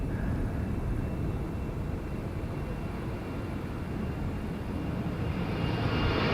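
An Embraer jet takes off from the Polderbaan runway at Amsterdam Schiphol. Its engines give a steady, distant roar with wind-like rumble that holds evenly throughout, and no one speaks.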